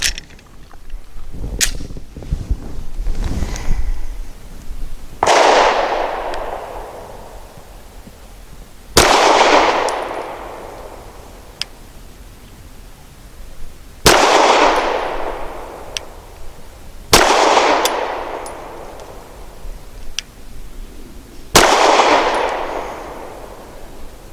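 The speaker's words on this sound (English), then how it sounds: "for my 5 shots from 7 yards, I will also be using the Nosler 115 grain match hollow points" A Grand Power Q100 pistol firing Nosler 115 grain match hollow points from 7 yards: five loud, sharp shots spaced several seconds apart, each ringing out with a decaying echo, after some faint handling noise.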